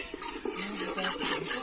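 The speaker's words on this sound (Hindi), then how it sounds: "शू शू हो रही है चम्मच की चलाने की।" A spoon stirs and scrapes food frying in a pot in a Pakistani village kitchen, making a soft, continuous swishing with small clinks against the metal, close by and fairly quiet.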